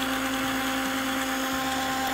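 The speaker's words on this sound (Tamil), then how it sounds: "நான் 10 seconds தான் அரைக்கிறேன்." A 750 watt mixer grinder blends tomatoes for soup with a loud, steady motor whine that keeps going for the whole stretch, and nobody speaks.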